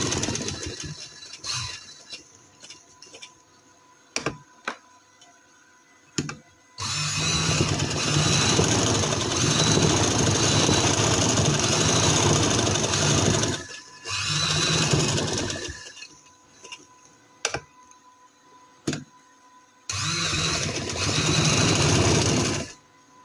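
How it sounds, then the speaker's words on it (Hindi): A sewing machine stitches along the edges of a women's casual dress in several long continuous runs, separated by short pauses and small clicks, close and steady. "अब ये सारे पे सिलाई लगा लेंगे"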